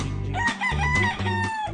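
A rooster crows loudly and close by, a drawn-out, wavering cock-a-doodle-doo filling the whole moment.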